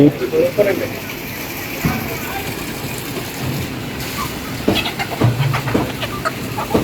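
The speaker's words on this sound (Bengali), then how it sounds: "দেশি মুরগি" Native desi chickens cluck at a retail poultry and meat shop, their calls mixed with busy market noise and people talking nearby.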